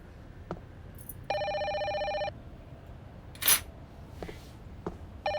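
An old-style telephone bell rings in a short electronic burst, repeats after a pause, with small clicks and a brief hiss between rings in a quiet indoor room and no one speaking.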